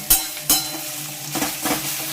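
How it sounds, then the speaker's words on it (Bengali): Onions fry and sizzle in a pan, with sharp clinks and scrapes as a utensil stirs them, two loud strikes early on and softer stirring afterward, all close and with no talk. "তাহলে এবার পেঁয়াজটা লাল লাল করে পুরো ভাজা হোক"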